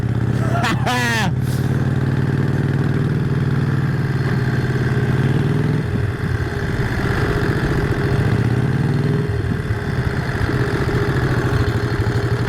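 A 1951 Harley-Davidson EL Panhead motorcycle rumbles steadily while being ridden, its low engine drone loud and continuous, with engine note shifts as it moves along; a brief burst of voice sounds near the start.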